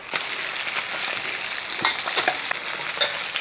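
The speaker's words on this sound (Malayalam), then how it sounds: "ഇതൊന്ന് വറുത്ത് മാറ്റിയിട്ട് വേണം അത് അതുകൂടെ ഇപ്പോൾ ഒന്ന് വറക്കട്ടെ ഫ്രൈ ആവട്ടെ" Sardines sizzle steadily in hot oil, a dense continuous frying hiss dotted with small pops and crackles, close up and with no talking.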